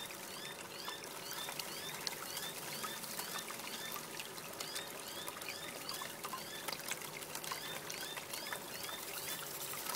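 Water and gravel wash through a small river sluice in a steady, close trickling pour, with small stones rattling and pinging over the riffles throughout, and a faint bird call now and then in the background.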